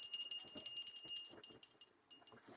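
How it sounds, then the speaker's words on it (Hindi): A small brass puja prayer bell rings repeatedly in quick, bright strokes that pause and resume, fairly faint, with soft background sounds between the rings. "बजवाओ भाई घंटी"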